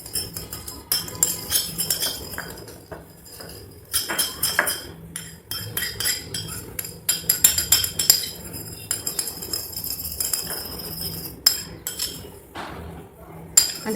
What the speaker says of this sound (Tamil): நல்லா மிக்ஸ் பண்ணிக்கிட்டே இருக்கணும். அப்போ தான் நமக்கு ஸ்லைம் வந்து ரெடி ஆகும்.